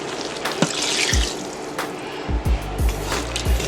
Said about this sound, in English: last but not least, we're going to add in the beef broth